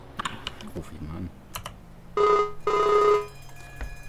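A telephone rings in a farming roleplay game, two long electronic ring bursts close and loud, following a few sharp clicks and brief scattered sounds.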